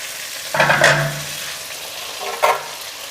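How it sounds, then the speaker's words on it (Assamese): Chicken pieces are stirred and fried in a pan for a restaurant-style home chicken dish: two short bursts of scraping stirring with sizzle, separated by a quieter stretch of frying, with no one speaking. "মাংসৰ পিচকেইটা ইলুটি শিলুটি কৰি দিম এতিয়া। ভাজিব লাগিব ভালদৰে।"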